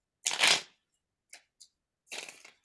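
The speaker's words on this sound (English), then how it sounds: "Let's shuffle." Isis Oracle deck cards being shuffled close up, one long riffling burst, two quick taps, then a second shorter riffle, separated by silence.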